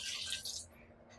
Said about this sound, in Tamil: தண்ணி ஊற்றணும் தேவையான அளவு.